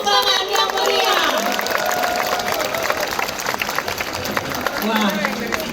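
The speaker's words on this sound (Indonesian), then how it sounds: "Mari kita beri tepuk tangan yang meriah." A huge outdoor concert crowd at Monas applauds and cheers, a broad roar of clapping and voices mixed with a tonal sound from the stage, loud and sustained throughout.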